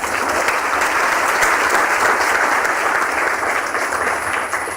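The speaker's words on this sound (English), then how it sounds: "Can we have another round of applause for Dr." Sustained applause from a conference keynote audience, a steady, dense wash of clapping hands at full volume throughout, with no voices over it.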